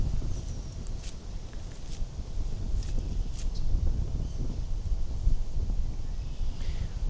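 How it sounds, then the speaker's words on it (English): Steady wind buffets a microphone beside a pond, a constant low rumble with faint rustling and a few light ticks, no voices. "There's a lot of wind."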